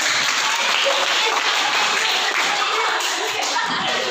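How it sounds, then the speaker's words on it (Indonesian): A school class applauds after a poetry reading, with brisk, steady clapping from many students filling the room at close range, and faint voices underneath. "Ya, kasih tepuk tangannya."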